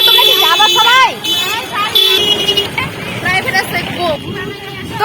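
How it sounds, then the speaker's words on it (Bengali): Busy street traffic with several car horns tooting in short bursts, some long and wavering, over a steady rumble of engines and nearby voices. "এত গাড়ি শব্দ"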